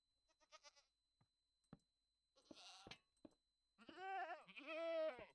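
Goats in Minecraft give a few scattered clicks and short bleats, then two drawn-out, wavering bleats close by at the end, with no talking over them.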